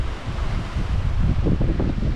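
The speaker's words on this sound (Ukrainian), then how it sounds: "Вітер на ніч все сильніший." Strong, steady hurricane wind, from Hurricane Ian in Florida at night, roars and buffets the microphone, with low rumbling gusts building toward the end; no voices.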